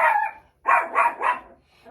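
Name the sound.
pet dog barking at passing neighbors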